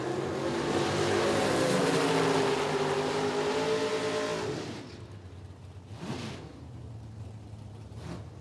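A nitro drag racing car launches at an IHRA Outlaw Nitro Series Pro Am time trial, its engine a loud, sustained roar that holds for about four seconds, then fades into the distance, leaving faint crowd and track noise.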